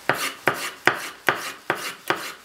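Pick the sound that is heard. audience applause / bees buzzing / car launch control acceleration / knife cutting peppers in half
knife cutting peppers in half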